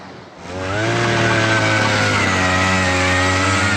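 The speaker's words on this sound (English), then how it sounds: "Bring out the auger! That's the drill." A small gas-powered earth auger revs up and holds a steady, loud buzzing drone, running close by while drilling into the ground.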